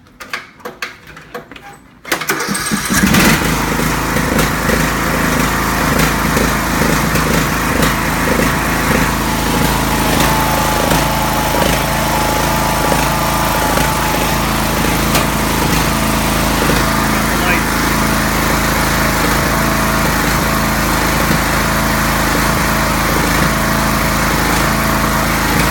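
A small engine starts after a brief quiet moment and keeps running loudly and steadily, a close, droning motor hum of an old, restored Ariens garden tractor idling.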